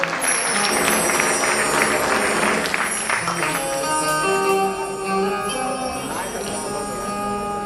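An audience applauds at a cultural gathering honouring a youth group, with dense clapping over a music and bell-like ringing backdrop that fades as the applause thins out.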